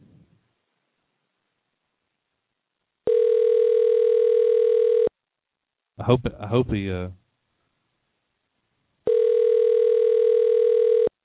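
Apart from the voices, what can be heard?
telephone call ringing tone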